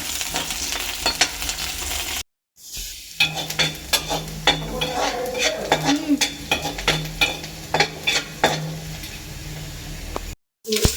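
Onion and green chilli fry in refined oil while a utensil stirs them around the pan for Maggi. Repeated scraping strokes sound over a constant sizzle, close and fairly loud, with two brief complete dropouts.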